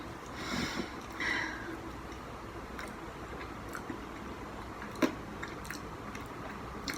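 Soft, close chewing of a bite of fufu dipped in egusi soup, moist mouth sounds with faint smacks and small clicks, quiet and unhurried with no talking.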